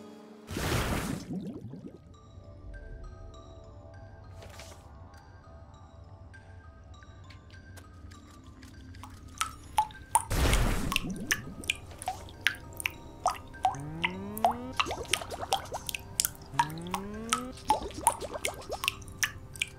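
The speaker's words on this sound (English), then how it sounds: "Down to the well again to get a thing of water." Water drawn from a well in the video game Wytchwood: a burst of splashing, then rapid dripping and small squishy plops that speed into a steady patter, with bright chime-like game tones throughout.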